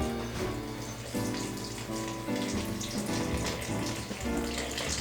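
Water pours from a tap or container into a bowl of flour sitting on a kitchen scale while dumpling dough is made: a continuous trickling splash with slight surges, moderately quiet and close, with no speech.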